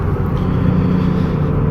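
A 2008 Cummins truck cruising on the freeway with a worn 4th-to-5th synchro, heard as a loud, steady low engine and road drone filling the whole moment with no voices.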